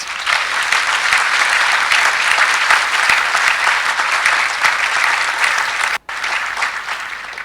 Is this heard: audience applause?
yes